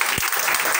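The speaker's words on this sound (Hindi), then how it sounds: "अगर बात समझ में आ रही है तो एक बार ताली बजाइए" A classroom of students clapping their hands together, a loud, dense burst of applause filling the whole moment, close and continuous with a few sharper individual claps standing out.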